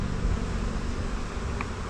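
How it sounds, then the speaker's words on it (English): Honey bees fan the air inside a box during a bee rescue, making a dense, continuous buzzing hum that stays close and steady, with no voices. "That's bees fanning the air, putting the pheromone out into the environment"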